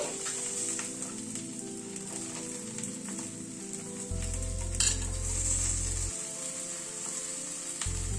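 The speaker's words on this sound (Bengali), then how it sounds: "এবার একে একে সব সবজিগুলোকে দিয়ে দিচ্ছি।" Vegetables fry and are stirred in a pan with turmeric, chilli and spices for a vegetarian dish, a steady close sizzle with occasional scraping clinks of a spatula and low hum underneath.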